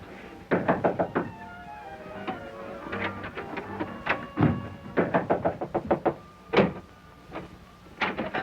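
Someone knocks on a door in a 1938 adventure film, with several rapid bursts of sharp knocks separated by short pauses, close and distinct.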